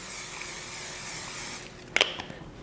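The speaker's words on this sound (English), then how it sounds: "I am just going to coat that with some cooking spray" A steady cooking spray hiss onto a pan over medium-high heat lasts about a second and a half, then cuts off and is followed by a few faint clicks and taps.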